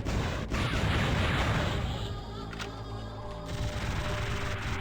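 Dense gunfire and explosions fill the PS1 shoot 'em up Einhander, a continuous loud barrage of rapid shots and blasts with no pauses and no talking.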